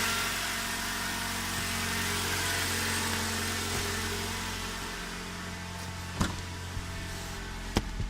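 A car engine idles steadily after a power steering fluid change, a loud, even rumble with a constant hum throughout and a couple of brief clicks near the end, no voices.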